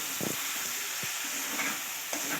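Ivy gourd pieces stir-fry in a pan, a soft steady sizzle broken by a few short scraping stirs, close and fairly quiet.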